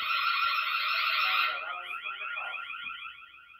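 A TP-Link Tapo H200 smart hub sounds its alarm siren, a loud, piercing electronic tone that shifts into a rapidly warbling pattern partway through, close and alone with no speech.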